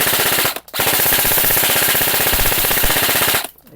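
An E&C 603 airsoft rifle fires on full auto in one loud, rapid burst of about three seconds, its close, fast mechanical cycling rattling between short silences at either end.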